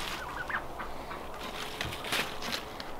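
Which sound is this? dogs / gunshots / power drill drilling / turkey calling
turkey calling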